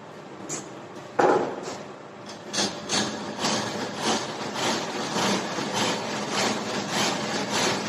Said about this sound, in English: we can now remove the excess material with the help of chisel